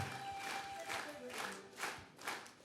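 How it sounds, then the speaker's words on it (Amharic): A church congregation claps along in a rhythmic run of hand claps, moderately loud and reverberant, with a few accented bursts and a voice faintly over the top. "ነይ እህቴ አጨብጭቡላት"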